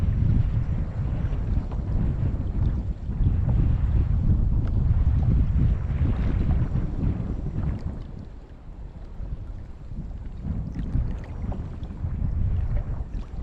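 Wind blows steadily over an open boat at sea while lure fishing for bass, wrasse and mackerel around offshore reefs. It is a loud, continuous buffeting rumble that surges and eases, with no voices.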